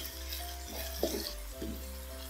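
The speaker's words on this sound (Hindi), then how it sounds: "मीडियम फ्लेम पे हम प्याजों को फ्राई करेंगे।" Onions and ginger-garlic paste frying in a pan over a medium flame. A soft, steady sizzle runs throughout, with a few brief stirring scrapes and no voices.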